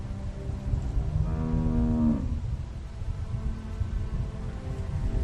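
A cow in the video game The Walking Dead gives one drawn-out moo lasting about a second, heard over a steady background ambience.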